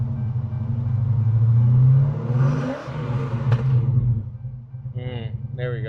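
The Whipple supercharged SRT Chrysler 300 engine revs up into a deep, building roar, then eases back to a rumbling idle. A voice speaks briefly near the end.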